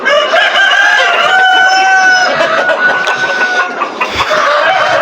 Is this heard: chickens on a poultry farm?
yes